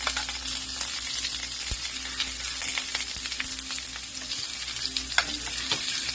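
Garlic sautéing in a pan after onions, a loud steady sizzle close up with occasional stirring taps and scrapes, no voices over it.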